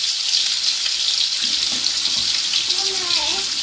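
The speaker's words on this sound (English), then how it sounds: "Mommy washes her hands first." Water runs steadily from a tap as hands are washed in a home kitchen, a constant hissing splash that continues throughout with no clear talk.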